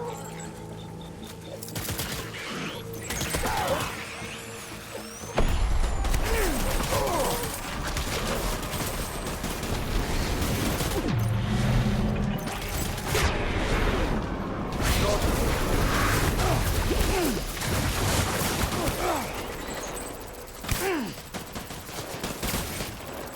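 Heavy gunfire in a Death Stranding firefight, bursts of automatic fire and shots with booms and mechanical clatter running nearly continuously, loud and close, with voices calling out over the shooting.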